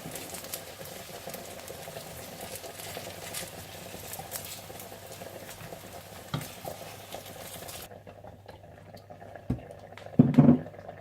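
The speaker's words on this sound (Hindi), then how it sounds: "और इसी तरह से आप सारे बैंगन फ्राई कर लें" Aubergine slices fry in hot oil for baingan ki borani, giving a steady crackling sizzle and patter that runs evenly, then cuts off sharply, followed by a brief clatter near the end.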